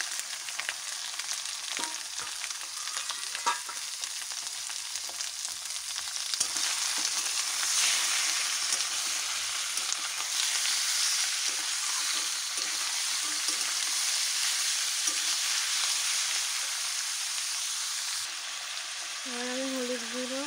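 Chicken meat sizzling and frying in a pan, a steady loud hiss lasting throughout with occasional stirring clatter, no talk over it.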